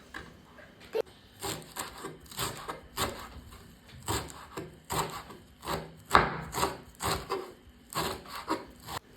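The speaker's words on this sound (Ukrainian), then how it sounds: "Я взяла також пучок свіжої петрушки 20 грам і нарізаю дрібненько." A knife finely chops fresh parsley steadily on a wooden board, quick rhythmic cuts repeating close up with no talking.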